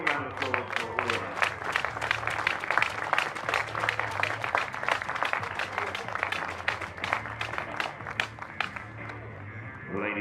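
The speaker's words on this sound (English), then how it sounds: "So a warm round of applause for all of them." Steady, dense applause from a crowd at the National Tour Final archery event at Wollaton Park, honouring the volunteers and judges, sustained and even throughout with a low background hum beneath it.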